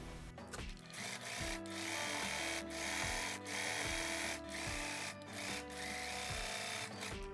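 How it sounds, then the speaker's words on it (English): A sewing machine stitches dress sleeves in bursts of rapid whirring, stopping and starting several times with short pauses between runs. "So I'm going to sew the sleeves."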